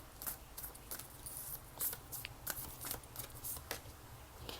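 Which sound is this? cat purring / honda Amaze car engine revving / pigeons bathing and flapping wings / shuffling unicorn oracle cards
shuffling unicorn oracle cards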